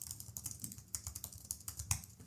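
Fingers type code on a computer keyboard, a quick uneven run of soft close key clicks and taps, faint and alone with no talking.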